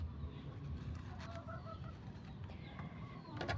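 Chickens cluck softly at a distance, with scattered short calls over a steady outdoor rumble.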